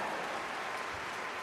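Crowd applause at a live band event, a dense broadband wash of clapping that fills the short stretch evenly at moderate level with no voices over it.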